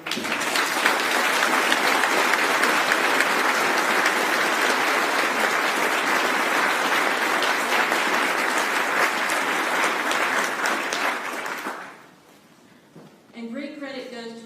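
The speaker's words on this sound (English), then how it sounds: "let's give these Army kids a round of applause" Loud, dense applause from a ceremony audience salutes Army kids at a change of command ceremony, sustained for about twelve seconds before stopping abruptly, followed by a speaker resuming.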